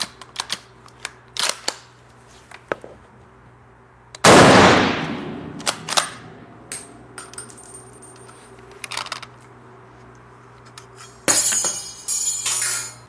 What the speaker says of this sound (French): il devrait pas tarder à tomber, le clip vide